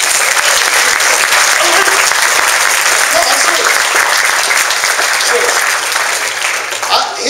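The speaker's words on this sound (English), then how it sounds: "Clap if you love him." An audience at a surprise birthday celebration for a business group's relaunch event in Elk Grove bursts into loud, sustained applause, clapping filling the room while a voice speaks over it.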